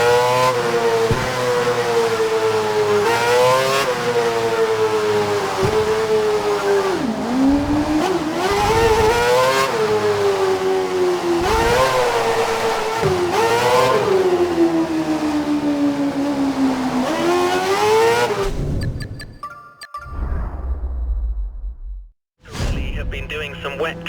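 A Formula One car from F1 2012 drives a soaked track on wet tyres, its high engine note rising and dipping through gear changes and corners, loud and continuous before cutting out near the end.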